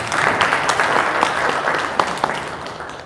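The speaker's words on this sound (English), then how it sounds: "So let's give her a big round of applause." Audience applause fills a hotel convention hall at the NUP Diaspora Convention 2023 grand opening, Marriott Crystal Gateway Hotel: dense, steady clapping from many hands that holds for the whole stretch with no talk over it.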